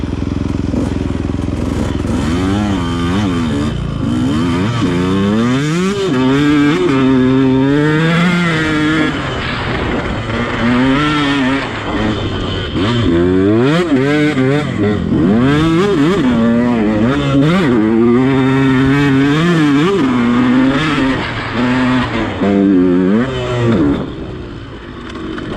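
A motorcycle rides over sand dunes, its engine loud and close as it revs up and down with repeated gear shifts, wind rush and occasional thumps from the terrain throughout.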